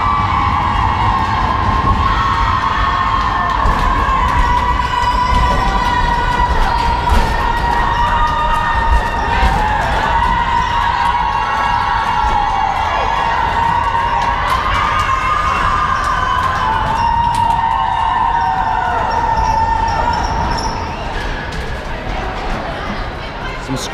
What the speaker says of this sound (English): School chums cheering them on.